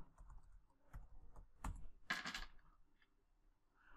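An Ubuntu password is typed on a computer keyboard as a short run of close, quiet clicking keystrokes with a quick burst near the middle, heard alone in a quiet room.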